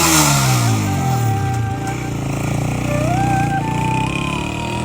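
A new motorcycle engine revs loudly and close, pitch rising and falling as the throttle is worked, with a steady rumbling idle underneath and a voice speaking over it.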